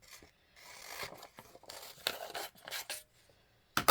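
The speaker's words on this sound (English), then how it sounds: "And I think I'm going to cut it apart." Scissors cut paper apart in a series of short, close snips and crisp rasping strokes, quiet overall with gaps between cuts and a sharper snip at the end.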